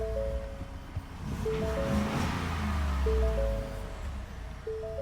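A Ford F-150 V8 engine rumbles low and steady at close range, swelling briefly, while faint electronic chime tones repeat over the idle.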